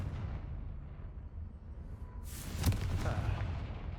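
The Confringo fire-blast spell from Hogwarts Legacy bursts into a sharp, loud explosion partway through. It follows a quiet low rumble and then fades into a crackling, rumbling tail.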